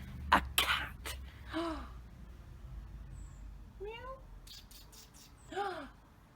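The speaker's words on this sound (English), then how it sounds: "It's a cat." A cat in a garden meows several times, short rising cries spaced apart and fairly close, with a few sharp bursts of background noise between them.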